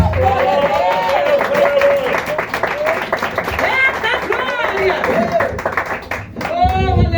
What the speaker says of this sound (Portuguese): E uma salva de palmas bem forte, bem alegre, para louvar a Deus.